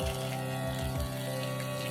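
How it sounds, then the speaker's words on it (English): Spring water trickles and flows through a rock-filled gap at a small homemade dam on a rural North Carolina property, a steady continuous watery burble with no pauses. "So this big huge gap will always have like a void in it, or rocks that can let the water or the spring flow through it."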